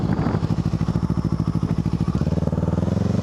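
A 2013 Honda CBR500R motorcycle engine runs close and loud, with a steady, rapid pulsing beat that quickens slightly toward the end.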